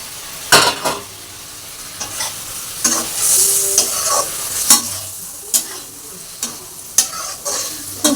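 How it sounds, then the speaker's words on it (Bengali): Fried okra is tipped into a hot frying pan of mustard-flavoured gravy and stirred, making a continuous sizzle broken by repeated sharp scrapes and clacks of the spatula against the pan. No one speaks. "ভেজে থাকা ঢ্যাঁড়সটা এর মধ্যে আমি দিয়ে দেবো এখন"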